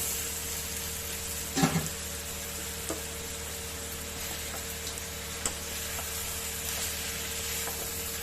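Something fries lightly in a pan for a banana-stem lentil dish, a steady hiss of sizzling with a few sparse clicks and one brief clatter near the start.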